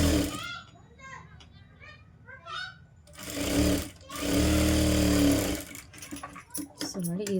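A sewing machine stitches a blouse seam in bursts, a steady mechanical whir running for a couple of seconds at a time between pauses, with a voice and talk around it.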